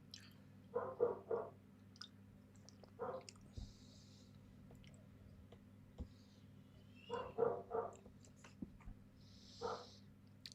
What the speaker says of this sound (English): Can you guys hear my dogs going berserk?